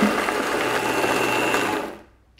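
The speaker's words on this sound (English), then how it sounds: "Now I'm not going to turn the Vitamix up all the way, otherwise you're going to over process" A Vitamix blender, run at a moderate setting, grinds sourdough bread into breadcrumbs with a steady, loud motor whir that holds for about two seconds and then stops abruptly.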